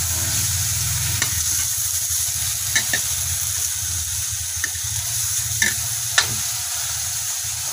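Banak and kitang fish cook in a pan, sizzling loudly and steadily while being stirred, with a few sharp clinks of a utensil against the pan and no talking.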